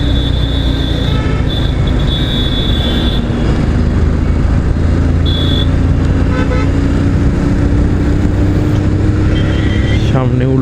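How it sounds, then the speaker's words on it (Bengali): Traffic horns honk repeatedly on a busy Kolkata road during a motorbike ride, several short and longer toots rising over a constant loud roar of engines, wind and road noise. "কে কত হর্ন বাজাবে,"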